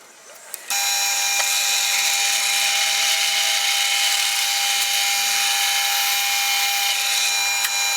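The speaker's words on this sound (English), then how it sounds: "it's really hard to drill the hole parallel" A power drill whines steadily and loudly as it bores a hole through a guitar body for a bridge install, starting abruptly after a brief quiet moment and running continuously.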